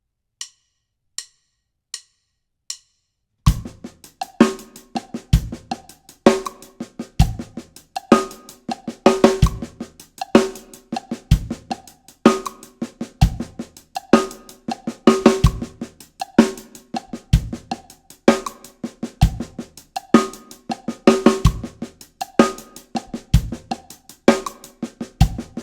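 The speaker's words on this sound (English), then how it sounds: "I'll put my right hand on the hi-hats, left hand on the snare drum." A drum groove with steady hi-hat strokes from the right hand and quiet snare ghost notes from the left, following a few sparse clicks at the start, playing continuously in a rhythm that doesn't feel like 4/4.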